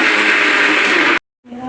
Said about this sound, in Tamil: மிக்ஸி ஆன் பண்ணுறாங்க பாருங்க